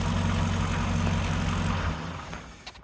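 A 1940 Studebaker President engine idles with a close, steady low rumble, then cuts out near the end, leaving quiet room noise.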